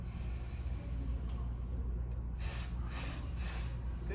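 Three forceful, rhythmic exhales through the nose or mouth in a breathing exercise, close and evenly spaced, after a quiet stretch of low room hum.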